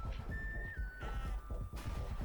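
Sheep in the video game Wanderburg give a few faint bleats beneath a busy, rumbling game mix of thumps and a steady whistling tone, with no one speaking.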